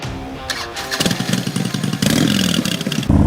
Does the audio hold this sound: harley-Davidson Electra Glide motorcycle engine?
yes